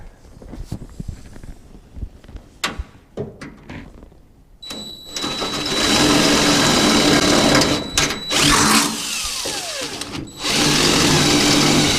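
A power drill whines loudly in long sustained bursts, drilling holes to fit a Lokar gas pedal in a 1967 Chevelle, with brief pauses between runs, after some quieter clattering and handling noises at the start.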